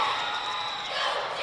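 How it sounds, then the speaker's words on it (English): Crowd cheering and shouting at a 2001 competitive cheerleading finals, a dense, steady wall of voices swelling throughout, loud and sustained with no break. "Hear the crowd even before they took the floor here to cheer on the Falcons from Rochester."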